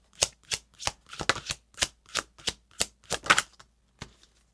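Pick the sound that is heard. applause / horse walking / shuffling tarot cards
shuffling tarot cards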